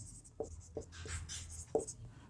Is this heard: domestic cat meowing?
no